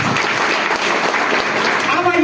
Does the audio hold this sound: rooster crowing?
no